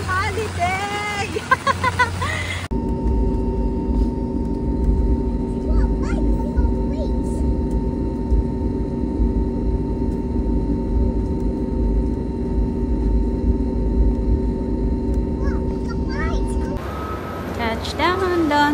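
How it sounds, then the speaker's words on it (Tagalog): A jet airliner touching down at Don Mueang International Airport, its steady loud engine and rolling roar holding for about fourteen seconds under cabin hum, with brief voices and chatter before and after. "Touchdown, Don Muang International Airport."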